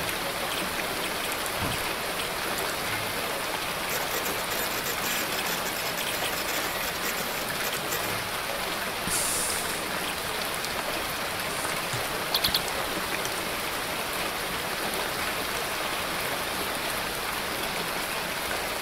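Running water in a zombie video game pours in a continuous, even hiss like a stream or heavy rain, steady throughout with no talk over it.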